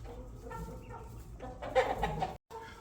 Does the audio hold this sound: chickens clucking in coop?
yes